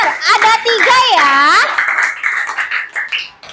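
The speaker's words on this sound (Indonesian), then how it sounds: "Tepuk tangan untuk temannya, jawabannya benar." Children clapping hands in a classroom, a burst of lively claps under a child's high, sing-song speech, followed by scattered, uneven claps and chatter that taper off.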